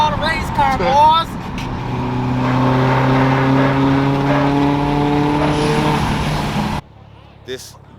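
Chevrolet Camaro race car engine revving at a canyon car meet, a loud sustained rising roar held for several seconds before cutting off abruptly, with a voice talking over the start.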